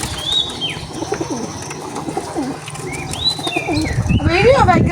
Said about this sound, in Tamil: இந்த புறா இதுக்குலாம் இருக்கு வந்து பாருங்க.